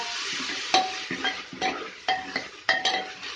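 Tomato and cooked rice stirred and frying in a pan with turmeric, a steady sizzle broken by a series of utensil scrapes and knocks against the pan, close up and with no talking.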